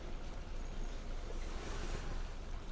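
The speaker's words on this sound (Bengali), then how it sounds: "ভাতটা কতটুকু আসলো, ভরপুর বলক আইসা পড়ছে" Rice boils vigorously in a Philips All-in-One Cooker, giving a dense, steady bubbling hiss close to the microphone with no pauses.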